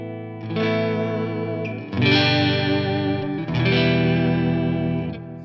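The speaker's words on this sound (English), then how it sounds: "Quite a glassy tone now, and I think without that harshness that it used to have." Clean electric guitar tone from a Gibson 57 Classic neck pickup in a PRS guitar, glassy and sustained, three strummed chords ringing out one after another with a touch of chorus or effects shimmer, played alone.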